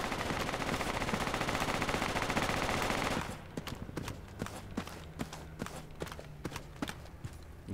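A .50 cal machine gun fires in the Project Reality video game, mounted on a Fennec: a loud, dense burst of rapid fire runs for about three seconds, then gives way to scattered single shots with gaps between them.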